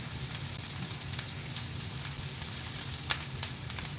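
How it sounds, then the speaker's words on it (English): Onions sautéing in a pan for vegan Salisbury steak, a steady moderate sizzle with a few small crackles and stirring taps scattered throughout. "I'm just sauteing the onions"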